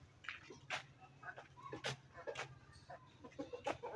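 Chickens cluck and squawk in short bursts close by, with scattered sharp calls over a low background rumble.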